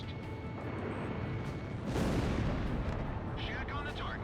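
A missile strikes its target in the Ace Combat video game, setting off a loud, rumbling explosion that swells midway over continuous heavy combat noise.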